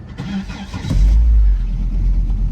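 A Volvo car's engine cranks briefly and catches, settling into a loud, steady idle close by after being refilled with coolant, with some handling noise at the start.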